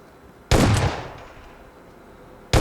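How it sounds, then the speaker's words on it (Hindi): A PUBG video-game gunshot heard through a SOMiC G936N 7.1 gaming headset: one loud, sharp blast with a long reverberant tail fading over two seconds, then a second shot starting right at the end. "मैं गन की ज़रा चला के आवाज़ चेक करता हूँ।"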